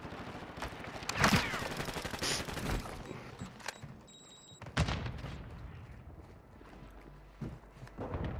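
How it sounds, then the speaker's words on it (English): Scattered gunshots and bursts of gunfire in a video game match, some sharp and close, others distant, with a steady hum of background game noise throughout. "Dude, where am I hearing those shots?"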